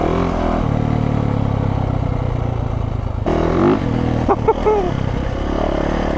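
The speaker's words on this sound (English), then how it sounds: "you don't need a street legal exhaust, so you have much louder, much more aggressive sound" A Yamaha YZ450 or Honda CRF dirt bike engine with a non-street-legal exhaust roars loudly and close by, with a harsh, raspy exhaust note that surges and revs partway through.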